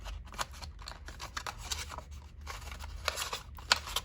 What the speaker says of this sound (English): now I can fold the sides in